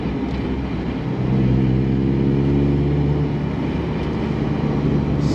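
A turbocharged Mazda MX-5 Miata engine pulls at low RPM in third gear off a roundabout. Its steady droning hum swells and climbs gradually in pitch once the throttle opens, heard from inside the car.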